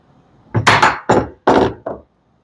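Four sharp knocks of a hammer on an Ozark Trail folding chair, evenly spaced and close, the last one lighter, with silence around them.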